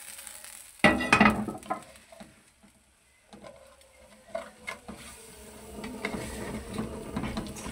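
Chopped onion sizzles and fries in chicken stock over a high flame, starting with a sharp clatter and stir, then settling into a steady crackling hiss with occasional stirring clinks.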